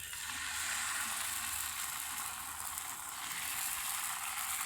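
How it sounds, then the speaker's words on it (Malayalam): Appam batter is ladled into a hot pan and sizzles with a steady, hissing crackle, faint and close, with no talking. "അതിലേക്കുള്ള മാവ് കോരി ഒഴിച്ച് കൊടുക്കും"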